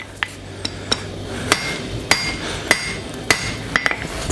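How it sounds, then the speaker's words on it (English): Hammer forging a hot copper spatula on an anvil, a series of sharp ringing metallic strikes at an uneven pace, some single and some in quick pairs, clear and close with a faint low hum between blows. "I think I'll use a little bit bigger hammer."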